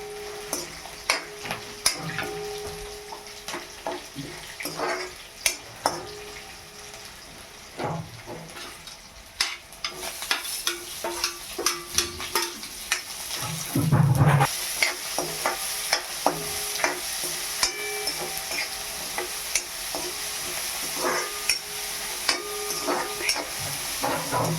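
Peanuts and onion fry in a pan, a constant close sizzle punctuated by many quick rattling stirs and scrapes, growing busier partway through with a brief hissing surge, and no one talking.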